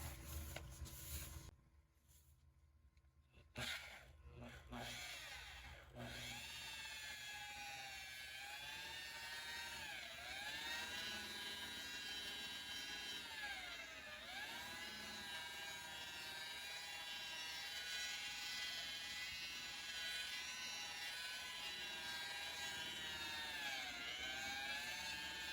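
An electric polisher with a wool pad runs at low speed, buffing rubbing compound into original 1950s car paint, giving a steady whining hum that starts after a few scattered knocks and continues unbroken.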